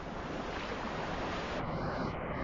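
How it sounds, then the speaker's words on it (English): Ocean waves roll in at a rocky, kelp-strewn shore after the tide has receded, making a continuous, loud wash of surf mixed with wind rushing against the microphone, with no talking. "The waves keep coming in."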